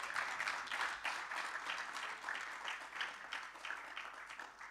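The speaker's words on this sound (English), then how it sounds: "A round of applause." A crowd at an annuity plan launch event gives sustained applause after a signing, a steady, even patter of many hands at moderate loudness with no voices over it.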